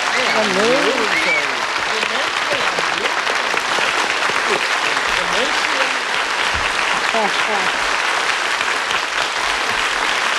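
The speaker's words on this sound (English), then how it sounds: "we have not heard applause like that for, 20 minutes or so." Studio audience of a 1972 television panel game show breaking into loud, sustained applause, dense and continuous, with a voice speaking over the clapping early on.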